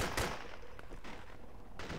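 Gunfire aimed at an incoming Osprey in the military shooter game Project Reality, a quick burst of several sharp shots fading into reverberant rumble, fairly faint.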